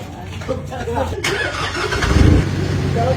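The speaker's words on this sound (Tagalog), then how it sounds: "Engine check." A car engine cranks and catches, then settles into a steady mid-pitched idle that grows slightly louder, with a voice speaking over it.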